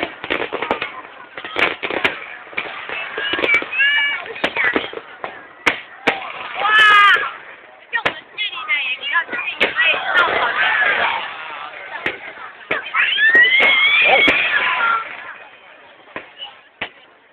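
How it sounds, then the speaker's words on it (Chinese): Fireworks at a night display, a string of sharp bangs and crackling pops spread through the span, with voices talking and exclaiming over them. "血一样的烟火最喜欢。"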